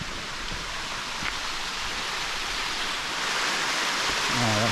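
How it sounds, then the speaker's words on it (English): Falling water from a waterfall on the Watkins Path in Snowdonia, a steady broadband rush that grows slightly louder as it nears, with no talk over it. "I hear the sounds of falling water."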